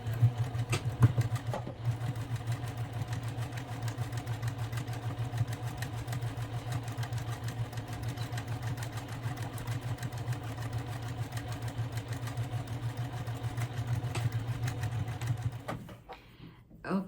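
A sewing machine runs continuously, stitching fabric for an eco bag with a steady whirring motor hum and a rapid needle clatter for about sixteen seconds before stopping abruptly.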